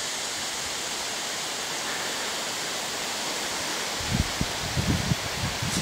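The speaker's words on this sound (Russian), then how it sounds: "Хотя порывы порой сильные." Steady roaring wind noise by Gimolskoye Lake in Karelia, with buffeting gusts thumping against the microphone toward the end.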